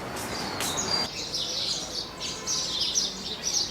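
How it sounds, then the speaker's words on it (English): Several birds chirp and tweet in quick, high bursts against a steady outdoor hiss at dawn in Rishikesh, India, with no voices. "all the birds chirping."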